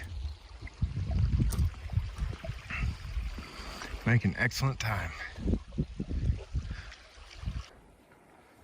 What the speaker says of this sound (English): Making our way across Grouse Creek.